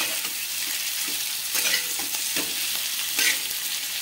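A spoon stirs a cashew and paneer masala for shahi paneer with onion and capsicum in a pan. Scraping strokes run steadily over a soft sizzle, with a few louder swirls.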